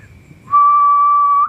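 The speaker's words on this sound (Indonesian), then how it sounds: "terus kita niup bersiul" A person whistles a single steady, clear, loud note held for about a second after a brief breathy start, showing a tightly focused stream of air of the kind used for harmonica single notes.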